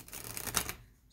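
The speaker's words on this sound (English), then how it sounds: "couple more shuffles here" A short, fast riffle of playing cards being shuffled, crisp and close, ending after about a second with no voices.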